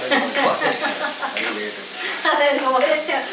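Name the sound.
vegetables sautéing in a pan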